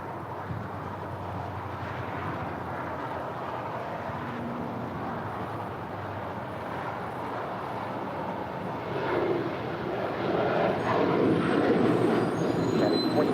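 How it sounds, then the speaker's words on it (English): A United Boeing 737-900 ER takes off from runway 25 right at LAX, its engines a broad, continuous roar heard from a distance that grows louder and rougher toward the end. "And that is United 2025 heading to Phoenix, Arizona. 737-900 ER."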